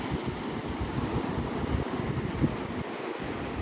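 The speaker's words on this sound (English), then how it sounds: "It's a little breezy, but yeah, it's nice." Breeze blowing at a beach at sunrise buffets the microphone in a steady, loud rumbling gust with surf washing faintly underneath, and no one speaks.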